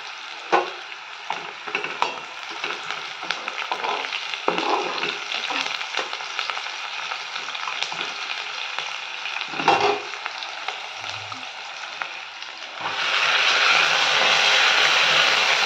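Onion, green chili, turmeric and salt sizzle and fry in a pan for chowmein, with steady crackling and occasional stirring scrapes, growing louder and denser near the end.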